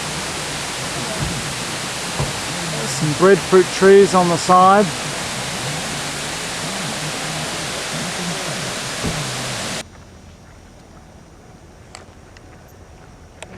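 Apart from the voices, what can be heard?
big roadside waterfall near Hana, Maui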